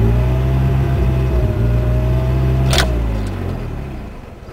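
A hot Mitsubishi Mighty Max diesel engine runs on after shutoff with a steady, close, low rumbling idle. There is a brief bright rattle partway through, and the rumble then sags and fades near the end.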